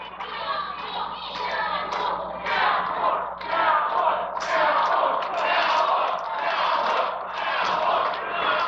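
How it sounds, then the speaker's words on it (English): A wrestling crowd at a Cincy Wrestling show chanting for the cowboy, rhythmic pulsing voices repeating in steady bursts, loud and filling the hall. "Crowd now chanting for the cowboy"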